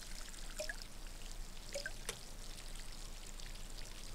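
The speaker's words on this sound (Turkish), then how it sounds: "Hemen bir sulama işlemi yapıyoruz şuradan." Plants are watered in a farming video game, making a faint, continuous trickle of pouring water with a few soft drips scattered through it.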